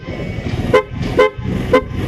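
Three short motorcycle horn toots, evenly spaced about half a second apart, loud and close, sounded during a registration inspection with a low idle underneath.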